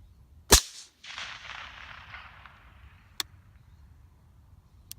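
A PS90 short-barreled rifle fires one sharp, loud shot at a distant steel target, followed by a fading roll of echo and two faint, tiny ticks later that may be the target ringing.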